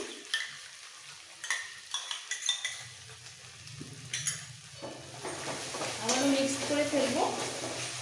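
A spoon stirs beaten sour yogurt into a sizzling spiced kofta curry in a pan. Intermittent clinks and scrapes start the clip, then a steady frying hiss rises, with a voice talking at times.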